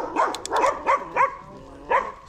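Several dogs bark close by in short, irregular bursts, a few sharp yips mixed with deeper barks.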